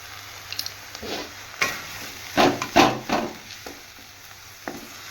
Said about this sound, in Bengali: ভালো করে এবার নাড়াচাড়া করবো